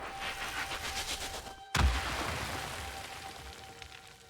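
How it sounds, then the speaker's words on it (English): A single sharp burst from an ocean fire explosion in a video game, a sudden loud broadband blast with a low thump that decays into a lingering rumbling hiss, after a quiet stretch of faint background tones. "It was an explosion, but it wasn't really"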